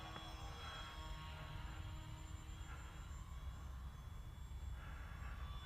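Pterosaur 1400 model plane on its maiden flight, flying slowly at minimum throttle, its electric motor giving a steady, even hum with faint whirring that stays at a constant level throughout.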